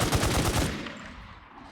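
A loud, fast burst of automatic rifle fire from the shooter Infestation SEA with a SIG SAUER 556, about nine rapid close shots in under a second, then a fading echoing tail.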